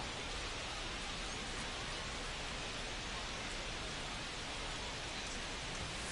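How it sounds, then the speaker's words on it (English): Steady rain pours over a baseball game, a dense, even hiss without breaks, heard alone at moderate loudness. "It feels like we might be headed towards a rain delay if the weather doesn't ease up, Chris."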